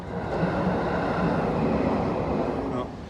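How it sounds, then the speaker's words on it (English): A Japanese bullet train rushes past outdoors, a steady, loud broadband roar holding for about three seconds with no voices over it. "there goes the bullet train"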